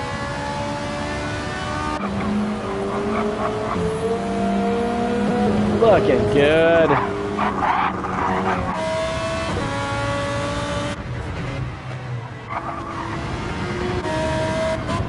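Race cars in Gran Turismo 7 whine through rising and falling engine tones as they pull away, with gear shifts and layered revs from several cars, while someone talks over the game sound.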